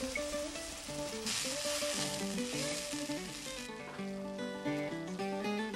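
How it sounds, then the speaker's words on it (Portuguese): Annatto and chopped seasonings fry in a pan with a steady, close sizzle that runs throughout, and background music plays over it. "Adicione o urucum e deixe fritar mais um pouco."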